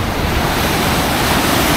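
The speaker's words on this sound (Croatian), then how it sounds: "Kao što vidite, dosta je valovito i moram priznat da je ocean užasno hladan" Rough ocean surf breaks on the shore at Cape Town with cold, choppy water. It makes a loud, continuous roar mixed with wind noise on the microphone.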